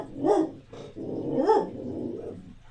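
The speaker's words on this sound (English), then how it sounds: "I'm gonna put the dogs upstairs because they're being loud now." Indoor dogs bark and growl close by, two or three gruff barks with rumbling growls between them, loud against the room, no talking.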